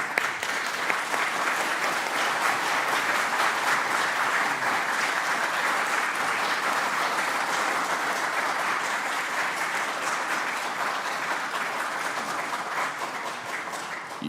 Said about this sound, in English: Y'all quit clapping, you're cutting in on my time.